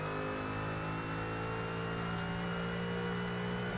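Porsche and Ford GT race car engines drone steadily in Forza Horizon, a loud, continuous mid-pitched hum with layered tones and no talk over it.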